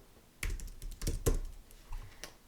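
Typing on a computer keyboard: a few scattered, crisp keystroke clicks in short clusters, close and fairly clear over a quiet room, with no talking.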